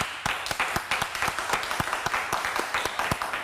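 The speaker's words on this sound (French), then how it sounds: "Ça s'applaudit." Applause breaking out during a casual interview: a modest crowd clapping fairly close, with quick irregular claps over a soft background and no spoken words.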